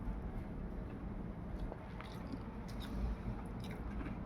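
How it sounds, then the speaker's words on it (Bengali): Close, quiet chewing and soft squishy bites of rice eaten by hand with boiled bitter gourd, potato and okra, a continuous wet mastication with faint scrapes and no talk. "তো বন্ধুরা খেতে বসেছি, উচ্ছে সিদ্ধ দিয়ে খাচ্ছি, উচ্ছে আলু সিদ্ধ।"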